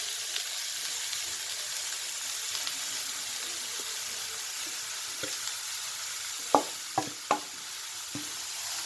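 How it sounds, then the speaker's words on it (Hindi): Grated carrots fry in melted ghee in a kadai, making a soft continuous sizzle broken by a few sharp scraping knocks of stirring near the end. "अब जितने गाजर हैं, सारे गाजर को इस कढ़ाई में डाल दूँगी"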